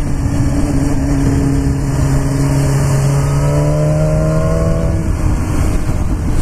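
A BMW S1000R motorcycle engine drones loudly under a rider on the road, its pitch climbing through a gear and easing, with wind rush around it.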